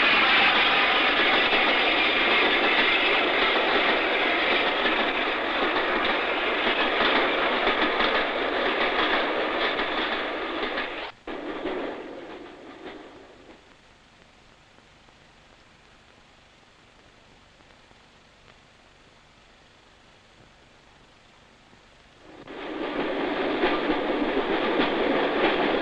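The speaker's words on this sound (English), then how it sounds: "the modern diesel-hauled express thunders over the junction and begins the long" A modern diesel-hauled express train on the Settle to Carlisle line in 1963 roars past loud and close, drops to a quiet lull, then rumbles back in with rail noise.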